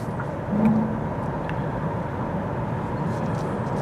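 Cabin noise inside a Kia e-Niro electric car driving at speed: a steady broadband road and wind roar with a low rumble, even and continuous throughout, with a brief slight swell near the start.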